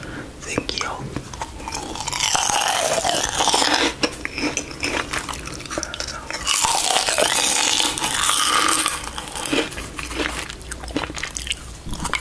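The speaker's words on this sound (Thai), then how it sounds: "มาทำเสียงกินขนมกันเสียงเคี้ยว" Crunchy Thai snacks being bitten and chewed close to the microphone in an ASMR setting, giving loud, crisp crunches in repeated bursts with whispered speech in between.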